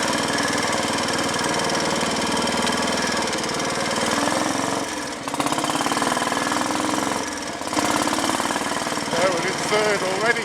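A Royal Enfield Bullet single-cylinder motorcycle with points ignition pulls loudly through its gears on the road, its steady thumping engine note dipping briefly at two gear changes, with someone talking over it.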